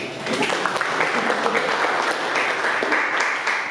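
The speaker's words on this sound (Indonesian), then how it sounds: "Tepuk tangan untuk Pak Lis" A classroom group applauds during a micro-teaching lesson, dense and close clapping that stays loud and even for the whole stretch.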